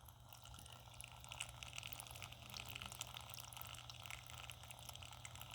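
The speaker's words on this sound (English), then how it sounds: "I just recently came across this beautiful little water fountain," A small indoor water fountain trickles steadily and softly up close, a continuous gentle burble of running water with no voices.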